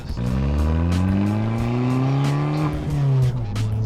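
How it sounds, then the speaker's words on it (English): A 2013 Fiat 500 Abarth's stock exhaust rasps loudly as the engine climbs through the revs, with sharp pops and crackles, close and aggressive for a few seconds. "this has to be one of the best stock exhaust systems I've ever heard."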